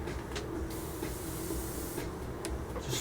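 Spray paint hisses steadily from an aerosol can onto an MPC General Lee model car kit from The Dukes of Hazzard, a close, continuous spray with short bursts and no talking.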